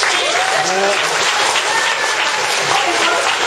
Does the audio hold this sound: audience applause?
yes